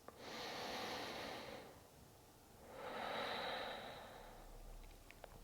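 Two long, soft breaths from a yoga instructor during a flow practice, each a slow airy inhale and exhale, close and quiet with no talking.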